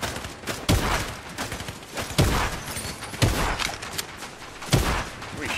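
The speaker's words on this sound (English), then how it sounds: "Are you shooting at me?" Gunfire in the video game Fortnite: several loud, sharp shot bursts spaced about a second apart over a busy, continuous game din, with no talking.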